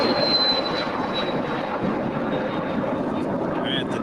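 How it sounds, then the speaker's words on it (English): An American Airlines Boeing 777 departs LAX from the south side bound for Tokyo, a loud, steady roar of jet engines with a high whine, and a voice talking over it. "departure here on the south side is the American 777 on our way to Tokyo"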